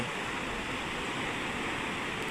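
Sea waves on the Bay of Bengal shore at Cox's Bazar, a continuous broad roar of surf, fairly faint and steady, with no voices.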